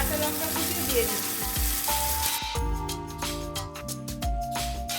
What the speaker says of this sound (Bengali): মাছ ভাজার তেলেই আমি কুচিয়ে রাখা পেঁয়াজ দিচ্ছি, তার সাথে কাঁচা লঙ্কা কুচিয়ে দিয়ে দিচ্ছি।